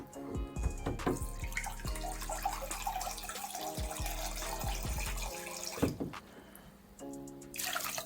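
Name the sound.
washing sea moss in water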